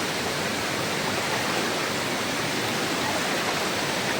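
A jungle river on a hike to a hidden waterfall rushes steadily as a dense, loud, unbroken wash of flowing water with no talk over it.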